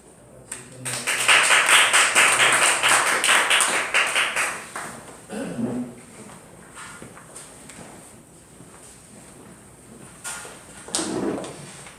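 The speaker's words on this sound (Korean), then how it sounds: "다 같이 박수로." Congregation clapping in a church after a baptism during a Sunday worship service, a dense burst of applause for about four seconds that quickly fades, followed by quieter room sounds and a brief voice near the end.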